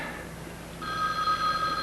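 A telephone bell starts ringing partway through with a steady, bright electronic tone over faint room hiss in an indoor drama scene. No one speaks.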